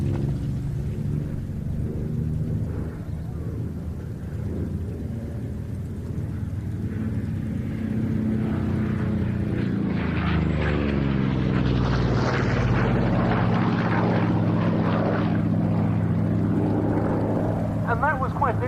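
Vought Corsair piston-engined carrier fighter flying a display at Duxford airfield, its engine drone building and shifting in pitch as it passes, under continuous commentary talk.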